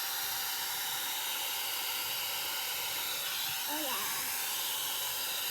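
A blow dryer brush running at full power on damp hair gives a steady, airy hiss throughout, with a brief spoken remark over it.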